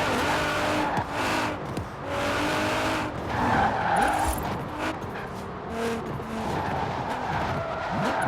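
Forza Horizon 4 car drifting with a sustained, loud tire skid and squeal over a steadily revving engine, continuous for the whole stretch with slight dips in intensity.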